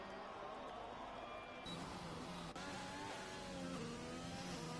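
A Mercedes Formula 1 car on a flying lap around Bahrain in the F1 2020 game, its engine a steady high whine climbing and dropping through gear changes, fairly faint.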